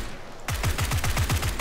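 Rapid automatic gunfire in the video game PUBG, a burst of about six evenly spaced shots starting after a short quiet lead-in, loud and close with no talk over it.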